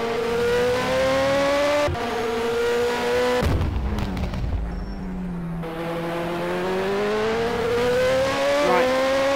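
A race car in the iRacing sim laps the Austin circuit, its engine whine climbing steadily through the gears, cutting sharply on a shift and braking into a corner, then building again as it accelerates away.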